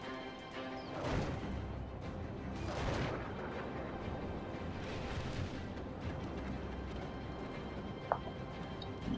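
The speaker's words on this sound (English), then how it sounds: "We do the Umbar Ballista firing." Umbar ballista firing in Third Age Reforged, a few whooshing launches and thuds over a dense layer of battle noise, moderately loud and spaced a couple of seconds apart.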